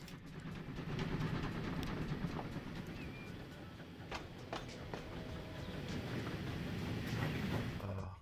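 A push-pull train runs along rails in the Transport Fever 2 video game, a steady low rumble with faint rhythmic clatter and a few sharp metallic ticks, fairly quiet and continuous throughout.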